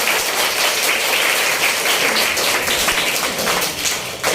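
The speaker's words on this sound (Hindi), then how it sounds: "ताली बजा दीजिए और हाथ खड़ा कर दीजिए।" An audience at a women's college induction meeting claps their hands, a continuous, dense patter of applause that holds steady and tapers slightly at the close.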